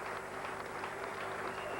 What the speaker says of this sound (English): He takes off the helmet to acknowledge the dressing room, the crowd, the applause all round